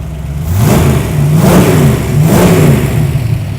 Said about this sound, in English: I don't want to rev it up too much, it's still cold.